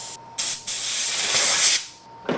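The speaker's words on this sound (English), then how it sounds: "now I'm gonna take the air gun and I'm gonna blow out everything I just blew out with carburetor cleaner" A compressed air gun blowing out carburetor parts and jets after cleaning: loud, close bursts of sharp hissing air, a short puff and then a long sustained blast that tapers off, with a brief final puff and no talk.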